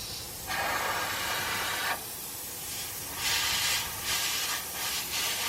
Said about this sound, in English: I got the compressor turned down as low as it'll go.